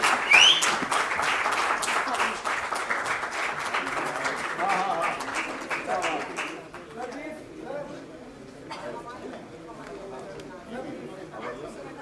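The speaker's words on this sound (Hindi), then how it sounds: "हमारे एंकर के लिए भी ताली बजानी है।" Sustained audience applause at a prize distribution ceremony of a theater festival, dense clapping loud for about six seconds then fading into crowd chatter and scattered claps.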